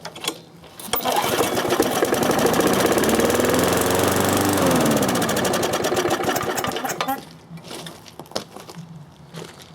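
A flooded YardPro walk-behind lawn mower fires after a cord pull, its engine catching with a loud, rough, rapid chugging that swells and sags for about six seconds before dying back to sputters and clanks.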